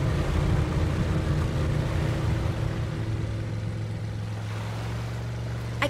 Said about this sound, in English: The waves are too strong.